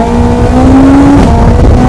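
A Cup 200 car fitted with a Hayabusa motorcycle engine revs hard from second gear, a loud continuous engine roar with a rising tone, close and alone.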